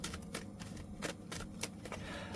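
A deck of tarot cards shuffled by hand, a quick run of crisp riffling bursts in an irregular rhythm, close and quiet.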